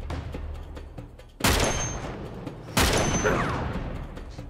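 Gunfire in the Uncharted 3 video game, with two loud sharp blasts a little over a second apart, each ringing and decaying over a busy low background of game combat.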